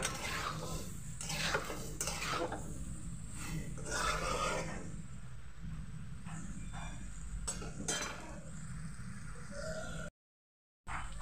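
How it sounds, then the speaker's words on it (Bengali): Chicken with potatoes and taro being stir-fried in a pan, with a steady sizzle under repeated scraping and clinking of a spatula against the metal, close and fairly loud. "আমি দিয়ে দেবো এবার পরিমাণ মতো লবণ এবং আলু আর কচুর সঙ্গে কিছুক্ষণ কষিয়ে নেব।"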